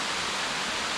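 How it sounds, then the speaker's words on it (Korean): Ssangyong Falls in Seoraksan mountain pours in a steady, loud, even roar of rushing water, heard up close for a brief moment. "쌍용폭포까지 내려왔습니다."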